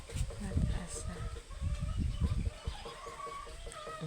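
Chickens cluck and murmur nearby amid a busy outdoor background, with voices talking over them.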